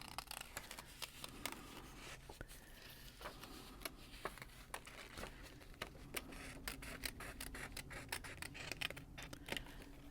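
Scissors snip paper pieces for a papercraft Christmas cat, making quiet, crisp, irregular cuts close by, some in quick runs, with no talking.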